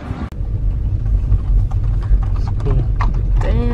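The hooves of four horses clip-clop steadily on a hard surface as they walk together in the rain, with a low rumble of background noise throughout.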